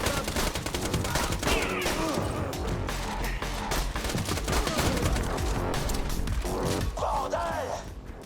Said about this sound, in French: le nombre de balles que je tire à côté pour chaque ennemi